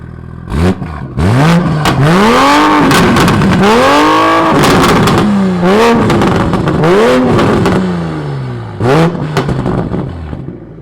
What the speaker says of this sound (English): Actually, let's hear that exhaust. Let's get an exhaust clip.